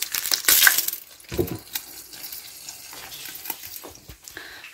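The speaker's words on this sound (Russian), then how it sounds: "Там жарятся оладушки для Лёшика." Zucchini fritters fry in a pan, with a soft sizzle and a few sharp crackles and clinks near the start, then a quiet crackling that continues throughout.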